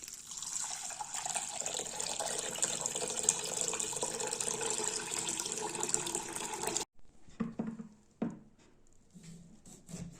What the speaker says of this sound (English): Add 4 glasses of water to it.